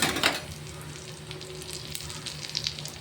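Dhirde, a gram flour pancake, frying in oil on a pan, a soft steady sizzle with crackling pops close by, opening with a brief louder hiss.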